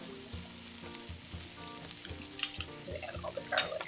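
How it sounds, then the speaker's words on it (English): Garlic sautéing in a pan gives a soft, steady sizzle with light stirring scrapes and small crackles, close and continuous, with no talking. "Okay, so we're just going to saute this."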